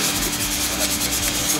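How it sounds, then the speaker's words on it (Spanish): Steady rhythmic wet sanding of a car headlight with water, a close, hissing back-and-forth scrape with no voices. "estamos terminando de lijar."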